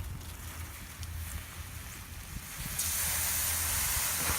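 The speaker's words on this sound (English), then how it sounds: "As you can hear it sizzle, it's still very hot." Cold water poured onto hot metal bursts into a loud, steady steam hiss and sizzle after a quieter stretch of low rumbling background noise.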